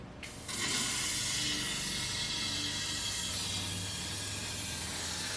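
Protective coating blasts out in a loud, steady hiss inside the inner wheel arch of a Mercedes W109/W108, starting abruptly after a brief quiet moment and continuing without pause.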